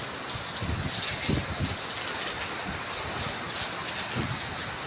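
Heavy monsoon rain pours in a constant dense hiss, with occasional low rumbling gusts of strong wind underneath.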